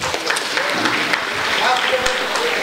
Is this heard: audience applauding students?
yes